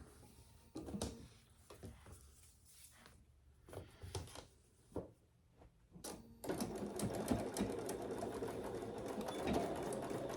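A Bernina sewing machine working on a clutch bag makes a few scattered quiet clicks and handling knocks, then settles into a steady, close stitching hum for the last several seconds.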